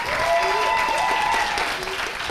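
An audience applauds at the finale of an eloquence contest in Le Mans, with dense clapping throughout and voices talking and cheering over it.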